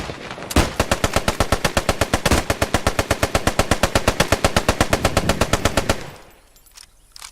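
Sustained automatic fire in the WWII shooter game Post Scriptum, a loud, rapid, evenly spaced burst of several dozen shots lasting about five seconds before cutting off into quiet.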